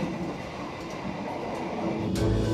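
Steady low rumble inside a moving train from Jakarta to Bandung, continuous rolling noise with a brief higher hiss near the end.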